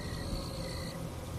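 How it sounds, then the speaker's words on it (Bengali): Crickets chirp at night outside a silent village, a thin, steady high trill that runs continuously at low volume over a faint rumbling background, with no voices. "বাইরে গিয়ে দেখে ঝিঝি পোকার ডাক ভেসে আসছে।"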